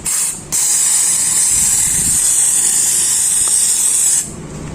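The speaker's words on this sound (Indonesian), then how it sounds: "Kita bisa menyemprotnya dengan brake cleaner ya." Brake cleaner sprayed from an aerosol can onto the front brake piston of a Honda ADV160 scooter, a steady loud hiss lasting about four seconds, with a short burst before it and no talking.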